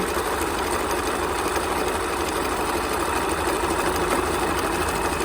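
A sewing machine runs steadily at high speed stitching menstrual underwear fabric, a loud, even mechanical whir with rapid rhythmic chatter and no pauses.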